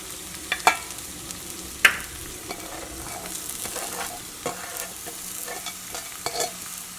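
Thinly cut cabbage and carrot stir-fried in a hot pan for restaurant-style egg fried rice, a steady sizzle broken by sharp clanks and scrapes of the spatula, several louder strikes early on, with no talking.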